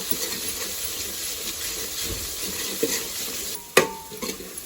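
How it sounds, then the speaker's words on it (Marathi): Mutton stir-fried in a pan gives a continuous close sizzle with occasional spoon scrapes, ending with a sharp metallic clank and a few knocks. "त्यानंतर त्याच्यात मटण घालायचं परतायचं"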